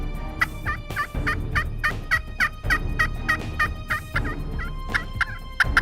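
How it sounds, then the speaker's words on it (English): A Rio Grande wild turkey hen in South Texas yelps in a long, steady series of raspy notes, moderately distant, with faint outdoor background noise. "a hen pops back at us, and she's yelping"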